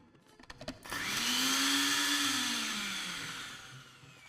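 An electric blender crushes almonds with a little milk into a paste, whirring loudly and steadily after a few brief clicks, its pitch sagging slightly as the motor runs on.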